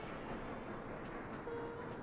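Trains running in the video game Sweet Transit, a quiet continuous rolling rumble with no distinct clicks or breaks, heard alone over its short length.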